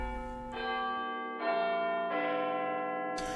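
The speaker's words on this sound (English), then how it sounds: "Yeah, that is the noise that I'm sure most people know what Big Ben is. It's that iconic clock tower in London." Big Ben, the great clock tower bell in London, chimes three resonant strokes that ring on with long sustained tones, each new strike layering over the last, then a final strike at the end.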